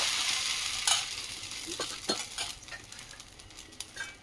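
Rice flour batter for chitoi pitha hits a hot pan over low-medium gas, giving a soft continuous sizzle with a few scraping, stirring clicks and light utensil taps, close and fairly quiet with no talking.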